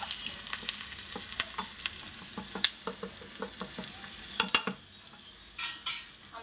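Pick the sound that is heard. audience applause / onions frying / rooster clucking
onions frying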